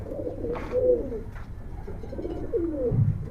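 A Giribaj pigeon coos close by, a few soft low throaty coos spread across the moment over quiet room background.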